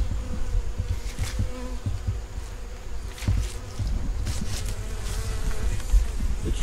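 Bees swarm in and out of a small entrance hole at the bottom of a hive, a dense, continuous buzzing close by with individual bees droning past, steady and fairly loud with no talking.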